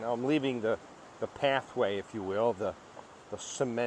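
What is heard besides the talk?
No distinct noise like a dog, phone or traffic.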